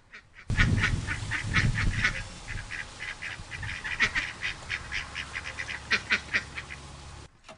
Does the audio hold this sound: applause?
no